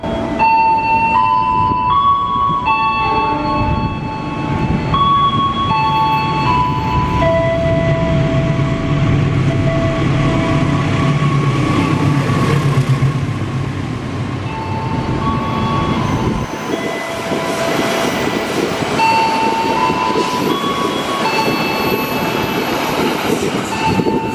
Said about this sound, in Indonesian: akan melintas kereta api Parahyangan Sau 36